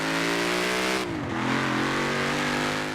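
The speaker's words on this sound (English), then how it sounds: "That's a pretty good sounding car." A supercharged car engine in Forza Horizon 4 roars loudly and continuously, its pitch dipping briefly as it shifts, then climbing steadily again in a sustained rev, with no talk.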